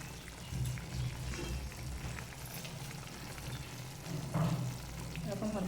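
Kochu loti and pumpkin curry simmering in a pan, a soft continuous sizzle and bubble with a few louder spits and clatters, faint and close.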